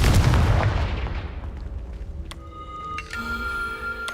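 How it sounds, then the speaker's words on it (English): A loud booming blast from the Confringo fire spell in Hogwarts Legacy, decaying over a couple of seconds into a rumbling tail, followed by shimmering tonal game chimes, with no talk. "Confringo."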